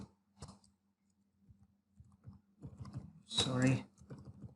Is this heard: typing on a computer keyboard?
yes